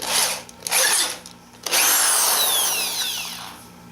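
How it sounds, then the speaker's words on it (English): Bursts of high-pitched grinding as a mechanical bow drill bites into wood, two short passes followed by a longer sustained run that slowly fades, close by with no talking. "Let's go back to our mechanical bow drill here."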